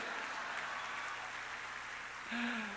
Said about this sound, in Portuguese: Vocês aplaudem, gente?